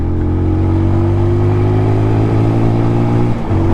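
A 2021 TVS Apache RTR 200 4V BS6 motorcycle in urban riding mode accelerates hard, its engine loud and close with a steady droning roar that rises slightly before dipping briefly near the end.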